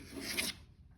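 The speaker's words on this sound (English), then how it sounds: "align one edge of the sanding stick with the sandpaper and scribe" A short, dry rasping scrape of a carbide scribe scoring sandpaper, lasting about half a second before fading to quiet.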